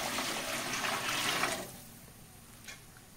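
Water poured from a glass into rice for a beef dum biryani, a steady splashing pour that runs for about a second and a half, then stops, leaving quiet room tone and one small splash.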